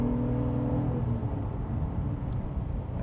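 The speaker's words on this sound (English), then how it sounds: "My goodness, what a great, great sound." A 2010 Lotus Evora 2+2 sports car with a six-speed manual pulls hard, its engine note a steady, loud, close rumbling drone that holds without break for a few seconds.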